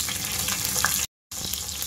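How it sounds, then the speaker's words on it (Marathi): Mustard seeds and green chillies crackle and sizzle in hot oil in a home kitchen, a steady close frying hiss with small pops, briefly cut to silence before resuming. "तेल गरम झालेलं आहे, राई घालून घेते, म्हटलं तर मोहरी घालून घेते, हिरव्या मिरच्या"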